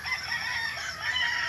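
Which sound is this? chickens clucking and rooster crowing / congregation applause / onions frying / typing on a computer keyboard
chickens clucking and rooster crowing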